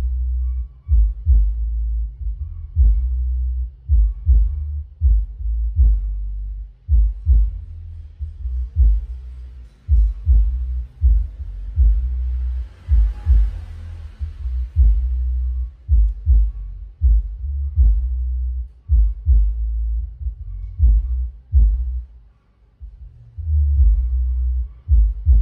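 Bass-heavy test music played through a B3 loudspeaker with an electric subwoofer, with deep, loud, pulsing low-end thumps in a steady rhythm throughout and no talking.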